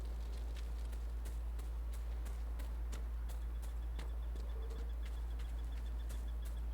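Horse hooves beat in a fast, regular gallop in the video game Dragon Age Inquisition, fairly faint over a steady low drone with no talk.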